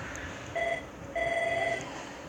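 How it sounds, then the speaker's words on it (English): Telephone rings in two short electronic tone bursts with a brief gap between them, moderately faint in a quiet room. "Hear the phone ringing?"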